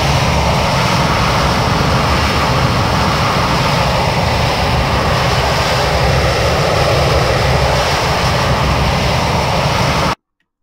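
A fixed-wing airplane flies in the X-Plane 11 flight simulator, its engine and propeller drone loud, broad and constant before cutting off abruptly at the end.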